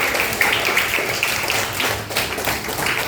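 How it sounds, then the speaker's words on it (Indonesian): Children clapping hands in a classroom, a sustained, fairly loud and close patter of many small claps with uneven rhythm, no talk over it. "Kasih tepuk tangan sampai selesai."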